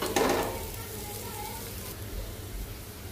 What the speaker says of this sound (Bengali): এখন পেঁয়াজ ভাজবো হচ্ছে মটরশুঁটি ভর্তার জন্য